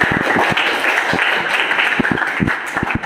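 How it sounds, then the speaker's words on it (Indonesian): A classroom gives a round of applause for Rahayu, scattered bursts of clapping over a busy murmur of voices, fairly near and loud. "silahkan aplaus buat Rahayu"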